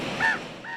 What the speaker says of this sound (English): It's a juvenile raven.